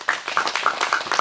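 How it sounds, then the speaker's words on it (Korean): An audience at an outdoor Saturday candlelight rally claps in a quick, close burst of steady applause. "다시 한번 뜨거운 박수 부탁드리겠습니다."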